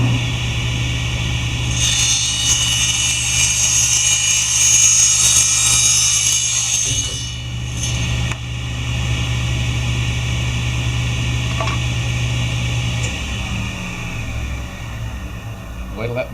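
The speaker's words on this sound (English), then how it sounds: "Wait till that blade stops spinning." A power saw blade winds down after a scarf cut in wood: a loud, high whine holds for several seconds, then drops away, leaving a steady low motor hum close by.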